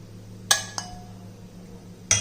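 Cooked beetroot being moved into a bowl in a home kitchen: three sharp, close clinks of utensil against dishware, two in quick succession then a third after a pause, over a quiet background hum.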